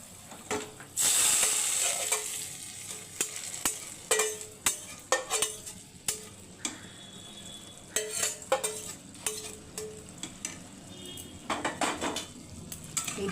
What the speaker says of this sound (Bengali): এই কালো জিরেটা ফুটছে তার মানে হয়ে গেছে